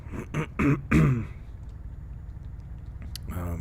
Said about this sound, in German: Muss mich halt immer wieder ein bisschen räuspern da